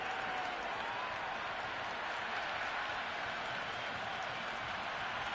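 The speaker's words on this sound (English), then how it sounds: "The crowd is electric right now." Crowd noise at a cricket stadium during an India vs South Africa T10 match, a constant, distant roar of cheering and applause filling the background without breaks.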